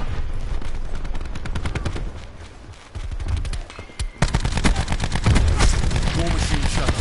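Rapid bursts of automatic gunfire from Call of Duty Black Ops 4, loud and close, crackling in dense volleys that pause briefly before resuming harder and heavier toward the end.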